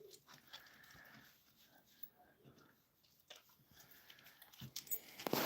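A big dog moves about in a woodshop, with faint snuffling, whimpers and shuffling under quiet background noise, while a person speaks to it.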